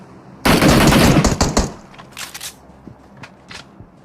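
Automatic gunfire in a shooter video game, a loud sustained burst followed by scattered shorter shots and bursts, up close.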